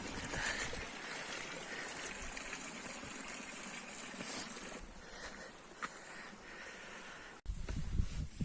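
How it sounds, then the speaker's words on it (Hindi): Water trickles and gurgles from a natural spring in a high mountain meadow, a continuous, fairly close rushing flow with a brief bump and shift near the end. "अब ये है यहाँ पर पानी के प्राकृतिक स्रोत"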